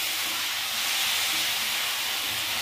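Fenugreek (methi) frying in a pan, a dense, even hiss of sizzling oil held steadily for a few seconds, close and fairly loud with no voices.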